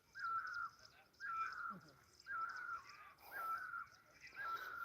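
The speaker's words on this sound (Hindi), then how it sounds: "परिंदा है कोई पता नहीं, ये सावन के महीने में वैसे ही बहुत बोलता है।" A bird calls repeatedly outdoors during the monsoon month, giving five harsh, drawn-out crow-like caws at a steady rhythm of about one per second, moderately near, with faint background noise.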